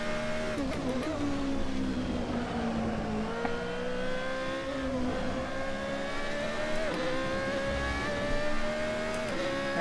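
A Formula Renault 3.5 race car engine in Assetto Corsa drones and revs continuously, pitch climbing and dropping with gear changes and throttle through a downhill track section, loud and without talk.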